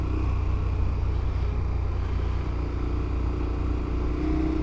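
A motorcycle engine roars steadily under hard acceleration in third gear as the rider holds a power wheelie, a loud, continuous close-up drone with no talk.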